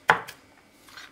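A knife strikes a cutting board while coarsely chopping garlic, giving one sharp close thud followed by a lighter second tap and faint scraping, in a home kitchen.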